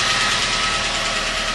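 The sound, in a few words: Magna car engine running on its last run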